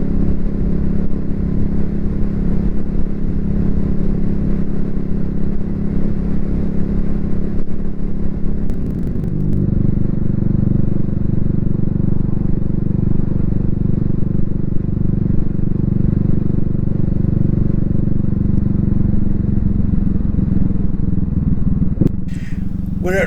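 A CCM Spitfire Bobber motorcycle rides along a road near Ranskill, its engine a loud, continuous low drone that shifts pitch partway through as the rider changes speed, with wind noise and no clear speech.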